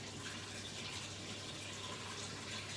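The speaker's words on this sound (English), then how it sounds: "So warm water happening now." Warm water running from a household kitchen tap into a container, a steady continuous gush with no break, close by and alone without talk.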